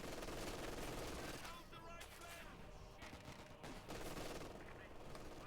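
Machine gun fire in Company of Heroes 2, rapid bursts of automatic gunfire with other battle noise, fairly loud and continuous, the rattling bursts easing briefly mid-way before resuming.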